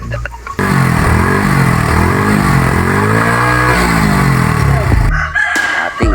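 A motorcycle engine runs close by, its pitch rising and falling over several seconds as it idles and revs, with a rooster crowing loudly over it.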